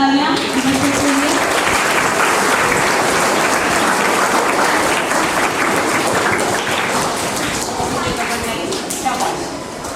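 Loud, sustained applause from an audience at a school Hindi Day celebration, cheering prize-winning children, steady dense clapping throughout that thins slightly near the end, with voices murmuring underneath.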